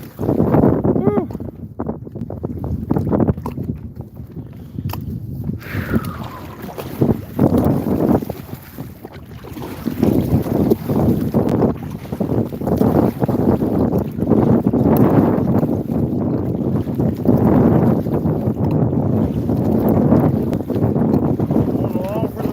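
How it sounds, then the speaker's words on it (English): Strong wind buffets a microphone on a boat during a fishing outing, a loud continuous rumbling roar that swells and eases, with a voice talking briefly over it. "I hope you guys can hear that wind."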